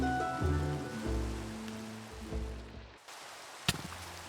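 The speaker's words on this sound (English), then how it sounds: "Let's get out of this rain really quick." Rain falls in the video game Minecraft as a steady, soft hiss. Quiet tonal background notes sit under it, and a sharp click sounds near the end.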